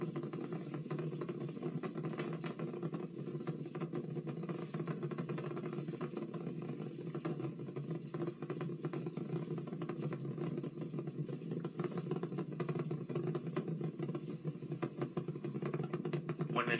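Artemis 2 rocket engines roaring at launch: a steady, dense, unbroken rumble heard from afar, even and sustained throughout with no pauses.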